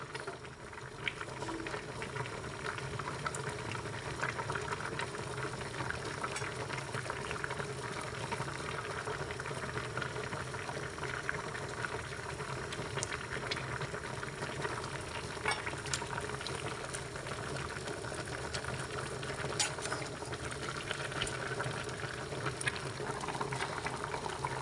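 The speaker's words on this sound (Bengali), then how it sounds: "এখন আমাদের পেঁপে সিদ্ধ হয়ে গিয়েছে।" Papaya pieces bubble in a pot of boiling water, a soft, steady, continuous simmering burble with faint clicks and pops throughout, fairly quiet and without talking.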